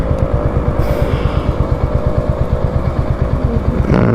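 A Royal Enfield Hunter 350 motorcycle ridden steadily, its single-cylinder engine thumping in a loud, rapid, even pulse close by for several seconds, with a brief gust of wind noise and a rise in revs near the end.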